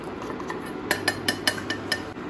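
A spoon clinks against a bowl while custard mix is stirred into milk for fruit custard, giving a run of about seven sharp, close taps in a steady rhythm over a low background hum.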